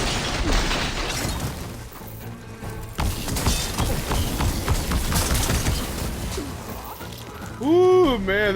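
Heavy cannon fire in the video game Horizon Forbidden West, Burning Shores expansion, comes as loud booming bursts and crashes over dense game noise, ending with a rising synthetic warble.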